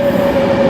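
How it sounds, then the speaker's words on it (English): A class 390 Virgin Trains Pendolino arriving at Stoke-on-Trent station on the West Coast Main Line, a loud close rumble with a steady tonal whine and no voices. "Arriving in now, we have a class 390 Virgin Trains Pendolino service to London Euston"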